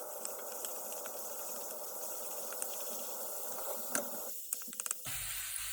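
Garlic stirred in low-temperature oil in a pan for garlic eggplant, giving a steady soft sizzle and hiss with a few faint clicks of the utensil, alone with no voices.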